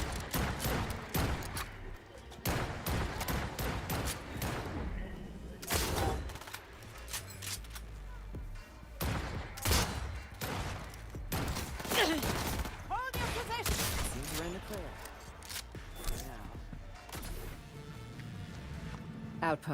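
Video-game gunfire in sporadic loud bursts and rapid volleys, broken by pauses, with a voice talking between and over the shots.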